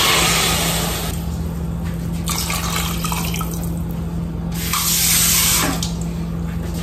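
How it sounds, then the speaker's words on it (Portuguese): Water poured from a tap or jug over rice and bacon in a pressure cooker, a steady close rushing splash lasting several seconds that swells louder toward the end, with no talk. "Água que dê para cobrir o arroz."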